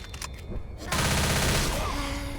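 Rapid burst of gunfire in Left 4 Dead, sharp repeated shots blending into a dense rattle, with game sounds in the background.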